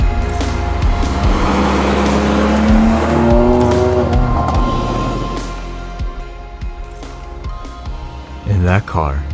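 A 2019 BMW M2 Competition is driven hard, its engine revving up through rising gear pulls with tire squeal, then easing off as someone talks over the car near the end.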